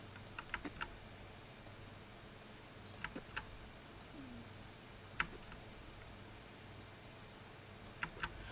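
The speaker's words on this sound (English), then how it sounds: "My keyboard is a bit loud." Sharp keyboard clicks tap irregularly over a faint background hum, scattered keystrokes rather than steady fast typing, fairly quiet overall.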